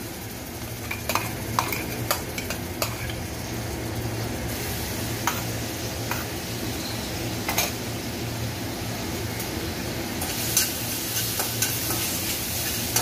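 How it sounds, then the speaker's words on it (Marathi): Ginger garlic paste sautés on a low flame for veg fried rice, a steady soft sizzle under repeated scrapes and clinks of a spoon stirring against the pan, close and continuous with no talk. "लो फ्लेमवरच आपल्याला हे लसूण आणि आल्याची पेस्ट परतून घ्यायची आहे"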